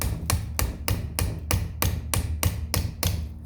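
Hammer tapping an 8 mm wrench to drive a piston pin out of a CR 250R piston, about eleven evenly spaced sharp metallic taps at a steady rhythm, close and moderate in loudness.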